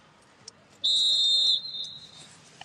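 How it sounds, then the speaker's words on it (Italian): Referee's whistle at an Under 19 Serie D youth football match in Sicily, Athletic Club Palermo against Messina: one sharp, shrill blast of under a second, loud over faint crowd and pitch ambience, with a fading echo afterward. "Fischia Cavaretta"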